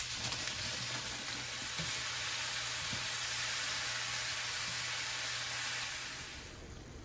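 Salmon and spinach stir fry sizzles steadily in a pan, a continuous frying hiss with occasional stirring clatter that fades slightly at the end.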